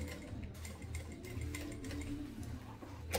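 A sewing machine stitches synthetic Ipanema 1.8 material along the edge of a small fanny pack, giving a faint, steady mechanical ticking rhythm with no voices.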